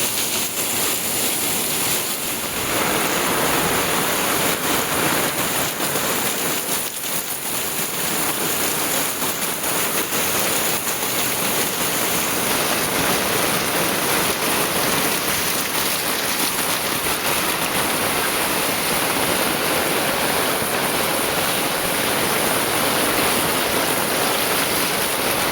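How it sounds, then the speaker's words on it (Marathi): Heavy monsoon downpour over a village in Konkan, a dense, steady roar of rain hissing loudly and continuously throughout, with no voices. "पाऊस मित्रांनो आता वाढला आहे, एकदम मुसळधार पडतोय"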